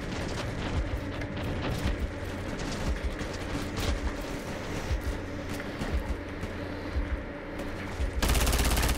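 Rapid gunfire in the modded war game Ravenfield, with dense automatic bursts and a steady crackle of distant shots running continuously, layered and moderately loud, with no voices.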